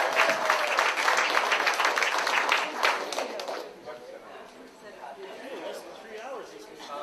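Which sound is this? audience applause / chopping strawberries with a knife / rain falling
audience applause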